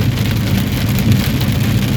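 Rain falls steadily and close by while errands are being run, a dense continuous patter with a low rumble beneath it and no voices.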